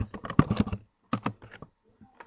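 Fingers tap rapidly on a computer keyboard while entering text into a web browser, two quick bursts of close, crisp keystrokes separated by a short pause, then a few scattered final taps.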